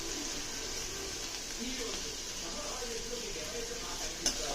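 Onion fries in a pan until brown, a soft, steady sizzle with occasional stirring scrapes and a sharp utensil clink near the end, while people talk over it.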